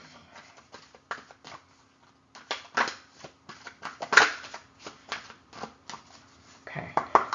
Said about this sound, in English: Just shuffle it one more time.